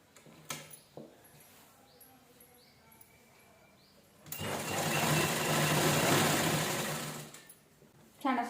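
A sewing machine stitches pieces of leftover blouse fabric in a loud, rapid, whirring run of a few seconds, close by, after a quieter stretch with faint clicks and handling sounds.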